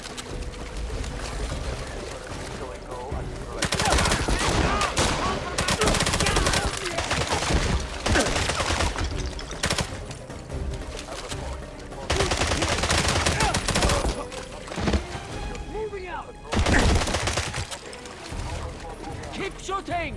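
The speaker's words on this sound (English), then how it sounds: "Keep shooting!" James Bond 007: Blood Stone firefight with sustained, dense automatic gunfire in long volleys broken by short lulls, loud and close, while soldiers shout over it.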